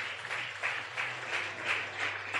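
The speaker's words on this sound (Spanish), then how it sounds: "Denles un aplauso a las esposas de los pastores" Applause from a church congregation during a Pastor's Day sermon, honoring the pastors' wives; steady, moderately loud clapping that swells in waves throughout, with no talking.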